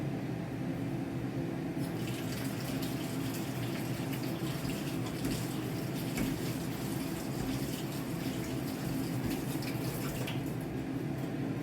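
Tap water runs steadily and close by for the whole stretch, a continuous broadband wash with no voices over it, as ingredients are rinsed while making Ukrainian borscht for an Easter dinner.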